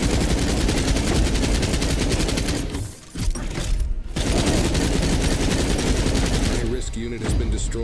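Rapid sustained gunfire in the sci-fi shooter game Earth From Another Sun during a space station assault, dense automatic bursts with brief pauses, loud and continuous, with a voice talking underneath.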